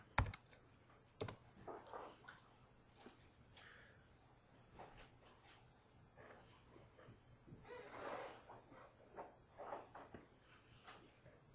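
Quiet typing on a computer keyboard, a scattered run of soft key clicks with uneven rhythm and short pauses, close but faint.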